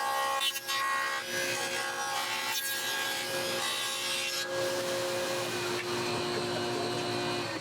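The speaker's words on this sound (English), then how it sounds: "I went ahead and I cut the same dado on the inner side pieces." Power cutting of dados in the wooden side pieces of a bathroom cabinet, heard as a loud sustained whirring and rasping with shifting tonal lines throughout, close up and with no talk.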